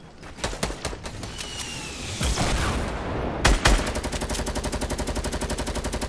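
Gunfire in the Fortnite video game: scattered single shots build into a sustained rapid automatic burst, loud and close, a rattling rhythmic stream that continues to the end.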